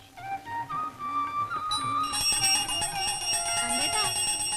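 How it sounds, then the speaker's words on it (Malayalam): A temple prayer bell rings in quick repeated strikes, its bright metallic tone building and layering into a loud, sustained clangor. "ദേവി ഒരുപാട് മണിയടിക്കണ്ട, സമയം എത്രയായിന്നറിയോ?"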